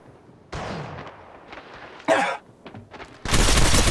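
Gunfire in the video game Apex Legends: a short burst of shots at about two seconds, then a loud, sustained rattle of rapid fire to the end, with quieter game sounds between.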